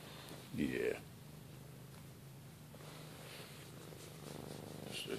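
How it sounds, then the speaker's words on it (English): A cat purrs close by in a steady, low, continuous rumble, with a brief louder rustle near the start. "So hear that purring right there."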